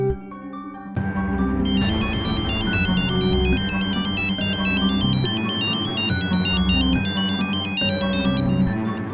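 Mobile phone ringtone plays loudly on an outgoing call, a bright repeating melodic tune that starts after a brief quiet moment and continues steadily without talk.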